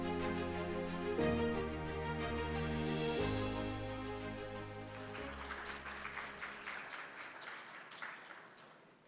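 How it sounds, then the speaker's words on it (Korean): An audience at a gender equality forum in Korea claps to welcome a keynote speaker to the podium, soft crowd applause rising in the second half after sustained tonal music. "박수로 맞아주시기 바랍니다"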